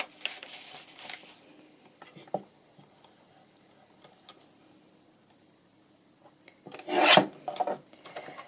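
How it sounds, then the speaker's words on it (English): Old book paper is trimmed, with short dry rasping scrapes near the start and a louder burst of cutting and rubbing toward the end, separated by quiet pauses. "I might just trim that edge because that will be the glued edge, so I'm going to just trim that off there."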